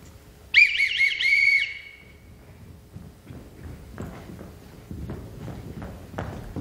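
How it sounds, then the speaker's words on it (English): A loud, shrill whistle gives a short patterned call of several sharp blasts to summon a household. It is followed by quieter footsteps and stage movement. "Everyone in this house answers to a whistle."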